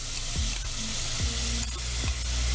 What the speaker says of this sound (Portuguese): Vou colocar aqui creme de leite.